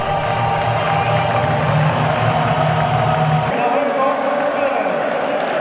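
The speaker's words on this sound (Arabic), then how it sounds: "لنستمع لاستقبال الجماهير" Stadium crowd roaring as the teams come out for Chelsea versus Tottenham, a dense, loud, sustained wall of cheering and chanting that shifts in tone partway through.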